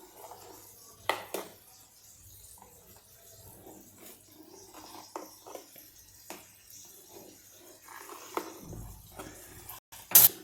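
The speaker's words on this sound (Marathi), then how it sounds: "हा ढोकळा मी असा पूर्ण कापून घेतलेला आहे" Steamed moong dal dhokla sliced with a knife in a tray: scattered faint taps, clicks and scrapes of the blade against the metal, irregular and close, with quiet pauses between cuts.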